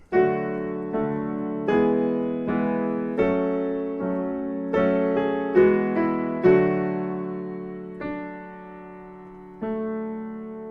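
Solo piano plays the outro of a song: a slow sequence of ringing chords, each struck and left to decay, ending with longer sustained notes.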